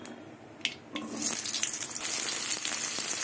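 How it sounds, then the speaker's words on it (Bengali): Potatoes drop into hot oil in a pan after a couple of sharp clinks, then a strong, steady sizzle rises and continues close up, with no voices. "এবার আলুগুলো ভেজে নেব।"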